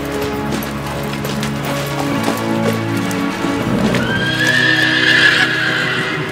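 A horse whinnies amid a busy Western-style scene with music and ambient noise, followed by hoofbeats as it rides off toward Mexico, the neigh rising clearly near the end.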